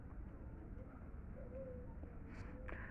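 Pigeons coo softly at a Sunday morning bird market at Rajarhat on Diamond Harbour Road, low murmuring calls over a dull rumbling crowd background.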